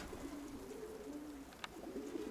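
Pigeons coo faintly and low in a loft, a drawn-out murmuring call repeated a few times over quiet background noise, with one small click near the end.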